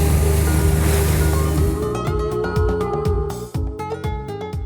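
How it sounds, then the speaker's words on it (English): Rough ocean surf at the mouth of the Lanyang River off northern Taiwan, heard from a boat: a loud, steady wash of waves and wind with an engine's low hum, then rhythmic knocking and clattering. "You see the waves behind me?"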